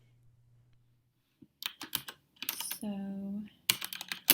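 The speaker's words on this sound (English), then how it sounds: "And I will be typing that out as I explain them to you." Mechanical keyboard keys click and clack in a few quick bursts of typing, close and crisp, with a short spoken word in between and brief quiet pauses.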